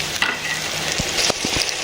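Onion paste fries with turmeric and salt for a fish tamarind curry, giving a steady bright sizzle with a few dull knocks of stirring toward the end, close and with no talk.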